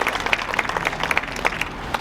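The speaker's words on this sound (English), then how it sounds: "So let's give them a round of applause too." A crowd claps at an elementary school's 100th anniversary celebration, a brief burst of scattered, close-sounding hand claps with no talking.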